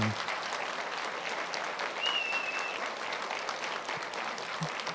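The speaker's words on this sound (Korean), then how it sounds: "큰 박수로 축하해 주시고 격려해 주시기 바랍니다" Congregation at Jusarang Church applauding a prayer-team commissioning ceremony, an even wash of many hands clapping with a faint whistle-like tone partway through.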